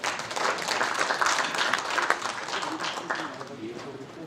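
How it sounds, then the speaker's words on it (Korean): An audience at a policy conference applauds, a dense wash of steady clapping that holds for several seconds with no lead-up. "큰 박수 부탁드리겠습니다"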